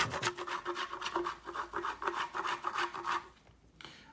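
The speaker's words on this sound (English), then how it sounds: "Just give it a wee grate over the pie." A small hand grater scrapes over a pie in steady, rhythmic back-and-forth rasping strokes, close and clear, about a dozen quick passes before stopping, with no talk.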